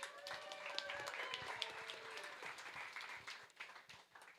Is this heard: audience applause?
yes